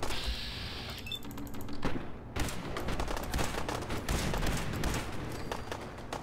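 Gunfire in Fallout 4, a run of loud shots and rattling bursts with a brief quiet dip partway through, then dense firing again.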